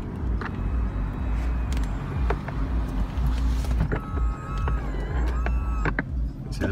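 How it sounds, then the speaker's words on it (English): A Porsche convertible roof closing: a steady electric motor whine with mechanical creaks and clicks, ending in a latching clunk, heard from inside the car under low ambient noise. "So I just want to demonstrate how fast the roof goes up in this car."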